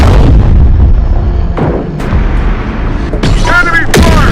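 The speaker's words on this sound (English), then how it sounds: "Enemy fire!" Gunfire and heavy booming blasts in the video game Terminator Dark Fate Defiance, loud dense bursts of shots and explosions filling the clip, with brief voices calling out in between.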